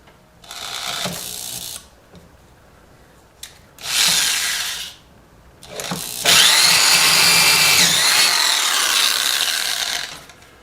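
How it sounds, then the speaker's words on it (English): A power drill whirs in three bursts, short ones first and then a long sustained run, widening holes in a metal guitar bridge held in a bench vise with a high grinding whine. "I'm about to widen out the holes with this drill bit."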